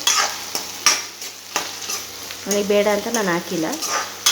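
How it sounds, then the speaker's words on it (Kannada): Onions fry in a hot pan with steady sizzling as a utensil stirs and scrapes in bursts, while someone speaks over the cooking. "ಇದೊಂದು 2 ನಿಮಿಷ ಫ್ರೈ ಆಗಲಿ"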